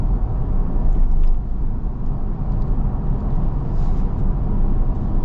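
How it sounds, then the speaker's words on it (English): Steady broadband wind noise and road rumble fill the cabin of a 2025 Toyota 4Runner SR5 on big tires as it drives along, a constant loud whoosh with no pauses. "Get a little bit of wind noise, just like the Land Cruiser, which is interesting."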